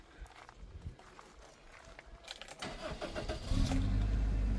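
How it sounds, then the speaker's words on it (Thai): A 2002 Toyota Soluna 1.5E engine starting, some quiet shuffling and clicks first, then the starter cranks briefly and the engine catches into a steady, fairly loud idle that holds to the end. "สตาร์ททีเดียวติดเครื่องนิ่มๆเลยค่ะ"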